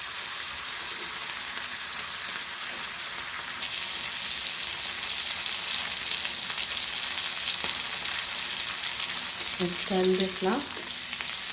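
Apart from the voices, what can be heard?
stuffed silver pomfret fish frying in pan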